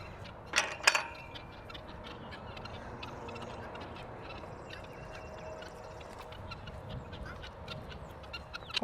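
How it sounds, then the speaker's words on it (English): Farm birds such as turkeys or geese call in a short loud burst near the start, then call faintly and sporadically over a steady outdoor background near a camper, with no talking. "Well, hey, birds."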